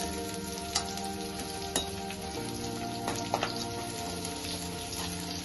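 Roughly cut onion frying in oil with garlic and chopped chilli for Schezwan prawns, a steady close sizzle with a few sharp pops and spatters and the light scrape of stirring.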